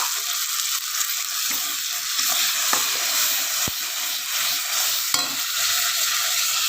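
Mustard paste frying in a pan for a Bengali bhetki fish dish, a steady loud sizzle with occasional scrape-like clicks of a spatula stirring, no voices.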